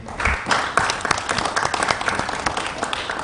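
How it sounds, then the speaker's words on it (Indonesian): Audience applause for an education minister at an Indonesian teachers' event, a dense, steady clatter of many hands clapping close by, continuous for the whole stretch. "Tepuk tangan untuk Mas Menteri ini."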